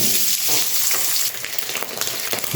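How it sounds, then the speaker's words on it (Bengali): Boiled eggs coated in salt and turmeric fry in a kadai with a loud, close hissing sizzle, and a few stirring scrapes break through near the end. "ডিমগুলো ভেজে নেব ডিমগুলো কড়াই দিয়ে দিলাম"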